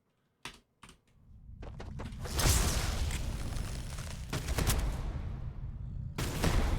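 Rapid gunfire from a multi-projectile weapon in the video game Starfield, a dense, loud burst of overlapping shots after a couple of sharp single reports, sustained for several seconds.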